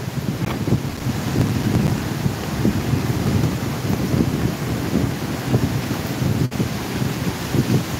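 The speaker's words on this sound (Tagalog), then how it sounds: "Malakas po yung hangin na mababali yata yung payong ko." Strong storm wind roars and buffets the microphone continuously beside the sea at Nato Port in Sagñay, Camarines Sur, during a storm surge, with low rumbling surf underneath and no talk.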